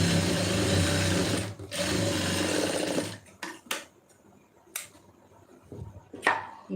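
A sewing machine stitches a folded hook piece on a lining blouse in a loud, steady mechanical whir for about three seconds, then stops, followed by sporadic clicks and handling sounds.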